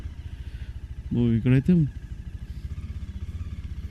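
A group ride of six motorcycles heading from Srinagar toward Kargil, with steady engine rumble and pulsing exhaust running throughout, and a brief spoken word over the noise partway through.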